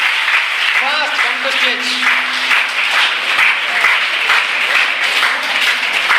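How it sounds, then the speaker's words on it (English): Students at a school session clap for volunteers coming up on stage, a lively, continuous round of applause filling the room while a voice calls out over it. "Give them a clap."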